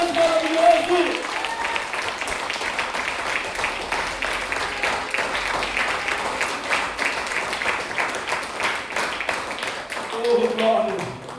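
A church congregation applauds steadily for several seconds, a continuous mass of clapping, with a voice briefly audible at the start and again at the end.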